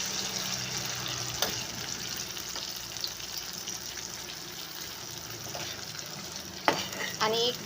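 Raw banana slices stirred and fried in a pan for a Maharashtrian-style banana curry, a steady close sizzle with occasional scraping strokes and a few louder clinks near the end.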